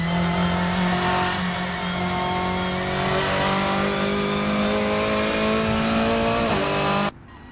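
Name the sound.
Volkswagen Scirocco race car engine revving, Assetto Corsa video game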